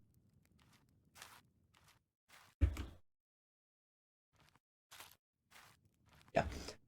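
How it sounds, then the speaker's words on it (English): Player footsteps in a video game under development land as a handful of separate, crisp steps spaced irregularly, with two louder, heavier thuds standing out against near-silent gaps. "if I walk out and be quiet, then you can hear my footsteps here"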